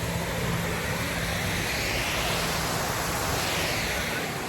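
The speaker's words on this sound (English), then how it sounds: "we made it to the waterfall." A waterfall roars as a steady, dense rush of falling water heard from fairly near, a constant broadband wash with no breaks and no talk over it.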